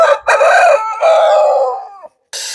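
A loud, close Aseel rooster of about 4 kg crows in one long drawn-out call, followed by a short pause and the start of another call.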